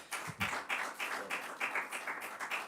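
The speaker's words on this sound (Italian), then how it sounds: "un applauso" Audience applause in a hall during a hearing on palliative care, a steady patter of many hands clapping at moderate distance, even and sustained with no voices.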